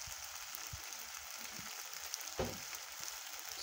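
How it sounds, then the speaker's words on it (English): Pork chops searing in a pan over high heat give off a steady, close broadband sizzle with crackling pops, one sharper spatter near the middle, and no voices. "this is going to go on high for the last minute or two."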